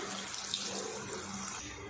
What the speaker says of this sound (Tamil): ரெண்டு கப் அளவுக்கு நம்ம தண்ணி ஆட் பண்ணிக்கலாம்